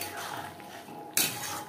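A spoon scrapes and clinks against a pan of vegetarian jackfruit curry cooked with a little ghee, quiet at first, then a sharper clatter partway through over a low steady kitchen hum.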